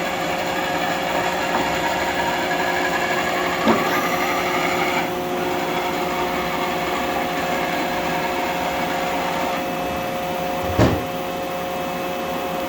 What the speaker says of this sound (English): Those noise you hear are just the splash guards or the chip guards.